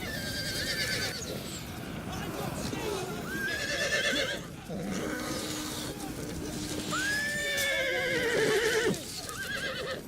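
Cavalry horses in a Thrones of Britannia battle neigh and whinny repeatedly over a busy rumble of hooves and battle din, with several rising whinnies standing out amid the noise.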